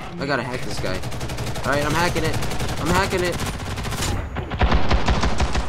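Rapid automatic gunfire bursts in the online shooter Ghost in the Shell: First Assault, loud and sustained throughout, with someone talking over the shots.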